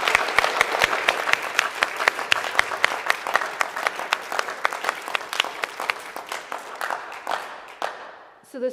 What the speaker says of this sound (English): Students, guests, round of applause for our panelists, please.